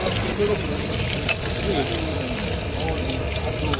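Noodles frying in oil at a busy street food stall, stirred steadily amid a constant loud sizzle and clatter, with voices talking in the background.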